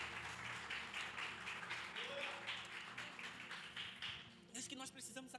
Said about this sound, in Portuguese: Podemos aplaudir a Jesus,